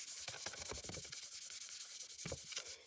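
A cotton pad rubbed over the top of a stamped card to buff it, giving soft, quiet scratchy strokes in an irregular rhythm, close by with no talk.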